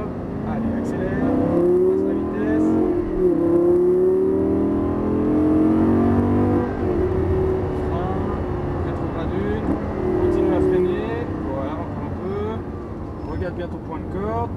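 A 530 hp Lamborghini Gallardo accelerates on a race track, its loud engine note rising and falling across the run while an instructor talks over it.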